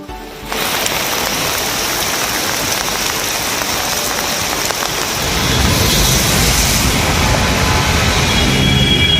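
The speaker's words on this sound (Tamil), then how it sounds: "அதன்படி கோவை, புலியகுளம், உக்கடம், டவுன்ஹால், குனியமுத்தூர், போத்தனூர் பகுதிகளில் இன்று காலையில் மழை பெய்தது." Steady morning rain falls in an outdoor town setting, a dense continuous hiss of drops on surfaces that grows heavier partway through, with no voices.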